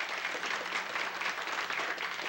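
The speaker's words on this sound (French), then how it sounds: "Vous pouvez l'applaudir." Soft, steady applause from an audience at a 1977 Canadian evening gathering in St-Jean de la Lande, a continuous wash of many hands clapping, faint and distant.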